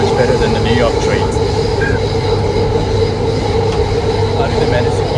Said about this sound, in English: Let's see how the train is.